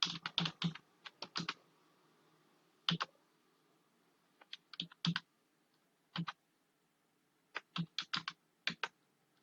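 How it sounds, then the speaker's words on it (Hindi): Quiet clicking of computer keyboard keys as a password is entered, in short bursts of rapid keystrokes separated by pauses, close and soft with no talking. "और इसका मैं पासवर्ड एंटर कर दूंगा।"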